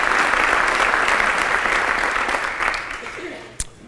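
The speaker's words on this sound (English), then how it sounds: "So another round of applause for the mayor." Audience applause at a city State of the City address in Peoria, a dense, steady wash of many hands clapping that slowly thins and fades toward the end, closing with one sharp thump.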